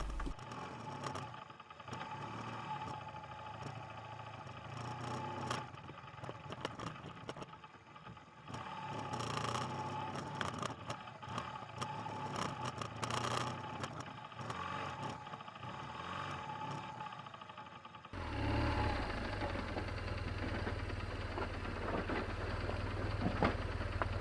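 A BMW R 1200 GS motorcycle engine revs and pulls away through loose sand, a loud continuous roar that swells into a heavier, steadier drone near the end.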